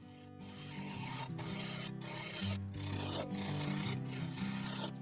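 A woodturning lathe turns slowly, around 550 RPM, while waste is roughed off a large segmented bowl blank. A steady motor hum sits under continuous close, rasping scraping that swells and eases without a break.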